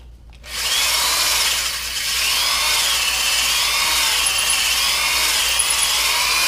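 A drill drives a hone inside the engine cylinder bores of a Farmall Super M block, a loud, steady grinding whir that starts abruptly and runs continuously with a scratchy abrasive texture, no voices.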